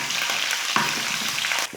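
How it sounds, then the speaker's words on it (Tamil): Mustard seeds, urad dal and chopped green chillies sizzle and fry in oil in a pan, a continuous close crackling hiss with a few stirring knocks. "எல்லாம் சேர்த்து நல்லா வதக்கிக்கலாம்"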